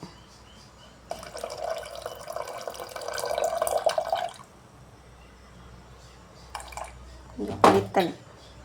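Tamarind water is poured into lentil sambar in a home kitchen, a soft splashing pour lasting a few seconds followed by a couple of shorter liquid splashes and drips, fairly faint.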